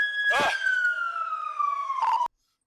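A San Francisco police car siren on Mission Street wails loud and close with a slowly falling tone, joined by brief bursts of radio chatter or voices, then cuts off abruptly near the end, leaving silence.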